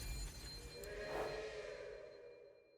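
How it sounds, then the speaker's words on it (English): A red train pulls out of a station in Last Train Home, a low rolling rumble with faint metallic wheel noise that builds to a swell near the middle and then eases away as it departs. "He boards the red train and departs."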